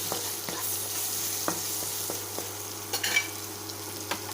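A steady sizzle from a pan as paprika, black pepper and garlic powder are stirred in for adobong tofu, broken by occasional spatula scrapes and taps against the pan. The sound is close and carries no talk.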